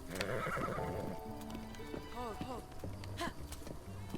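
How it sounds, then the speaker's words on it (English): Hooves clip-clop at a steady trot while a horse gives a short whinny in the video game Breath of the Wild, with a person talking over the sounds. "I'll ride my horse north."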